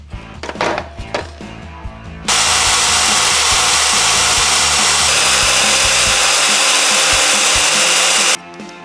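Power drill boring holes through a metal minibike front fender bracket, a loud steady grinding whir lasting about six seconds after a few knocks and handling noises, with no talking.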